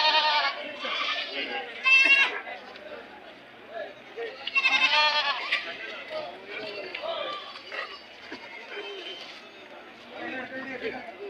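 Goats and sheep bleat repeatedly at the Tumkur sheep and goat livestock market, loud and close, with several animals overlapping amid steady crowd chatter and background voices.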